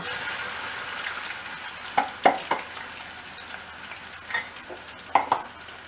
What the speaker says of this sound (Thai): แล้วก็คนตลอดเวลานะคะเจียวกระทั่งกระเทียมอย่างเหลืองดีเลยค่ะ